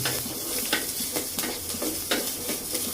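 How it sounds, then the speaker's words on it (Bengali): Onions and garlic fry in a pan with a constant close sizzle, while a spatula scrapes and stirs in regular strokes every half second or so. "প্রথমেই পেঁয়াজ আর রসুনগুলো ভেজে নিচ্ছি"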